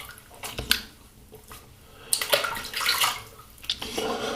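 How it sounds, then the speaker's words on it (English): Water splashing and running while a shaving razor is rinsed, with bursts of broadband splashing that swell and fade, loudest in the second half, close by with no talk. "All right, let's rinse."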